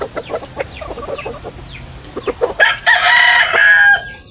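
Chickens cluck sporadically at a Philippine poultry yard of tall derby-size fighting roosters, then a rooster crows loudly and close for over a second near the end.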